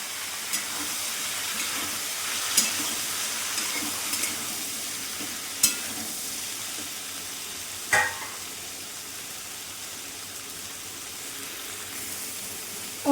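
Chopped ridge gourd going into fried spices with turmeric in a pan, giving a continuous bright sizzle and hiss, with a few sharp clanks and scrapes of a utensil spaced through it.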